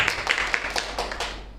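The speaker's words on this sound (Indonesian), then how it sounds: "saya kasih tepuk tangan" A few hand claps from a teacher-training session, sounding as sparse, sharp separate claps at a moderate distance, with low background noise.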